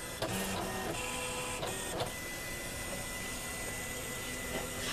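Electronic cutting machine cuts a card base, a steady mechanical whir and hum with brief motor clicks as the mat moves back and forth, close and with no talk.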